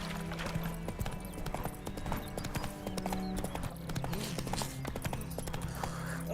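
Horse hooves clip-clop in The Witcher 3, a steady, rhythmic trot of hard, close hoofbeats that continues throughout, with a little game audio underneath.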